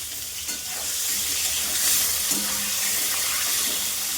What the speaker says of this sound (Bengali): ওটার মধ্যে ভেজে নিচ্ছি।